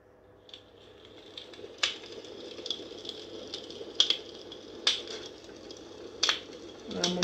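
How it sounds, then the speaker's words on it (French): A crackling fireplace fire played as a nature sound on a Morphée relaxation device gives sharp, irregular pops and snaps over a soft, hissing bed, fairly quiet and without talk. "Vous avez le feu de cheminée."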